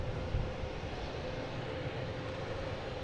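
A Delta Boeing 757 airliner arriving from Las Vegas and coming in to land, heard as a continuous, moderately loud jet roar with no clear change across the span.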